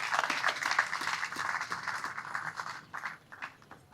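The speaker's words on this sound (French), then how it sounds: "Je vous demande d'applaudir tous ceux qui ont contribué" An audience at the inauguration ceremony of a Kinshasa drinking-water treatment plant claps. The applause is dense and steady, then thins into scattered, uneven claps as it fades toward the end.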